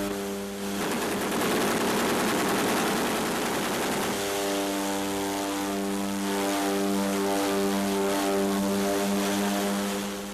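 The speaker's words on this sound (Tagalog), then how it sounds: "Pinasayaw ng mga piloto ang kanilang mga eroplano, pinaikot-ikot." An OV-10 Bronco turboprop of the Philippine Air Force roars through aerobatic flight, its propeller engine loud and close with a droning, buzzing tone that shifts in pitch as the aircraft maneuvers, with no talking.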